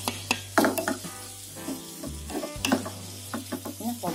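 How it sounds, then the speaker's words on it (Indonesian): Long beans being stir-fried in a pan for a spicy tumis dish, with soft sizzling and intermittent scraping and stirring clatter, close and moderately loud, no talk. "Kedengeran nggak bunyi krenyes-krenyes kacang panjangnya?"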